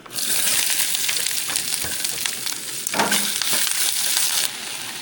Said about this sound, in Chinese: 还有这个洋葱也炒一下，